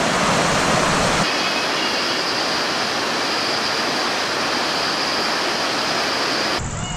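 Chinnar river spreading wide and flowing through forest in Chinnar Wildlife Sanctuary, a loud, steady rushing roar of water, broad and continuous throughout with no voices.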